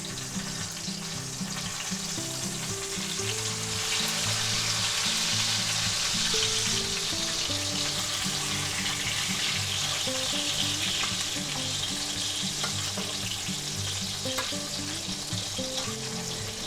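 Chuck eye steak searing in bacon fat in a pan, a loud, steady sizzle and crackle that carries on unbroken, with faint background music underneath.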